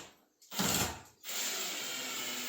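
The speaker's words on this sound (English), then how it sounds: "We're going to take these guys and screw all 4 screws on there to hold the casters solidly in place" A power drill drives thick number 10 screws through caster mounts into the wood of a shop table: a short loud burst of whirring and grinding, a brief pause, then steady close-up drilling.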